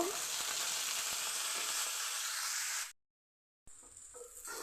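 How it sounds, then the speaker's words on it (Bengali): Potato and brinjal pieces fry together in hot oil in a pan, making a close, steady, bright sizzle. It cuts to silence briefly, then resumes more quietly with faint stirring. "এখন আলু বেগুনটা একসাথে আমি ভেজে নেব"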